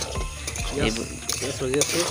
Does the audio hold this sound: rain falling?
no